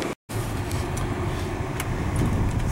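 A 2005.5 Volkswagen Jetta on a test drive, its engine and road noise forming a steady, close interior drone with a brief dropout near the start.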